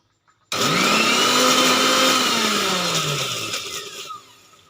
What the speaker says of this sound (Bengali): আমি মিক্সির মধ্যে দিয়ে দিয়েছি আদা রসুন এটা আবার আমি পেস্ট করে নেব